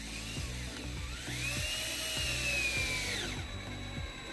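A power saw whines as it cuts through a PVC composite Azek deck board, its pitch sliding up and then dropping under load, with a faint rhythmic ticking underneath; the cut is close and steady, and no one speaks.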